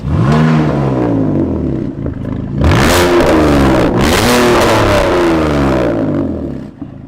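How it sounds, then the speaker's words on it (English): A concept car's engine revs hard in two or three loud, close surges, each climbing then falling back into a deep, rumbling growl, with no voices over it. "It's got like a whip and then a deep growl."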